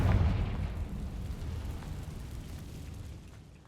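A Confringo fire spell explodes in Hogwarts Legacy: one heavy close boom at the start, then a rumbling crackling tail that slowly fades, no speech.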